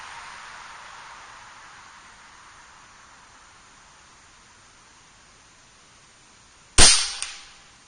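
A single sharp crack from an Air Venturi Avenger .25 air rifle firing a pellet, loud and close after several seconds of faint hiss, with a quick secondary click just after.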